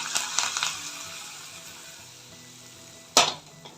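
Pepper, cumin, cashews and ginger sizzling in hot oil for a pongal tempering, a soft steady frying hiss with a few brief crackling pops and one sharper clatter near the end.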